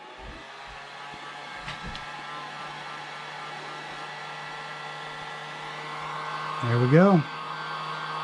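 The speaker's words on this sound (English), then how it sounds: "let's get the heat gun here. Let it heat up." A heat gun runs with a steady, fairly quiet whooshing hum during a 1985 Air Jordan sneaker restoration, while someone briefly speaks and a short rising whine appears near the end.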